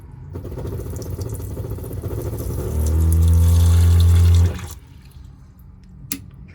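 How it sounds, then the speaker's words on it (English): A fresh water pump in a camper van built from a 2018 Ford Transit 250 kicks on with a loud, steady motor hum for about two seconds and then cuts off, with running water around it. "This is the switch for the water pump, so you can have that on."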